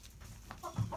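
A chicken gives a few soft, brief clucks inside a coop, faint and close in a quiet setting.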